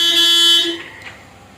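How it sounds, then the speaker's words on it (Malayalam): A car horn in the Free Fire video game, one loud sustained honk that fades quickly after about half a second. "ആരോ ഇരുന്ന് ഹോൺ അടിച്ചോണ്ടിരിക്കുന്നു."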